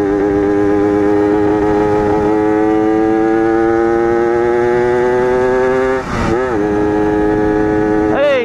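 Yamaha RD 135 motorcycle with a fresh engine being broken in: a loud, close two-stroke engine holds a steady buzzing tone that climbs gradually, then drops and revs sharply twice near the end.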